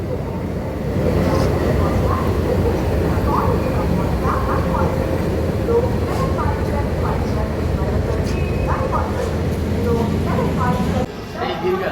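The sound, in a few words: LTT Express train arriving, hauled by WDG4 diesel locomotive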